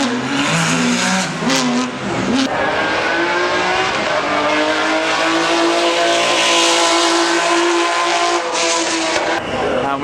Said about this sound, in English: The cars are just making their way to the start of the hill climb now.